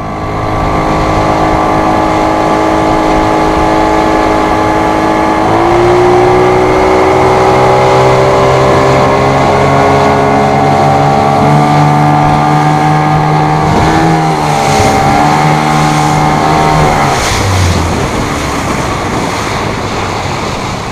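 A small fishing boat's trolling motor runs loud and close, a steady electric whine with shifting pitch, wind and water noise around it, no speech.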